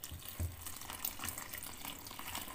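A litre of water is poured into a bowl of margarine for khachapuri dough, making a steady, close splashing rush that runs the whole time with no talking.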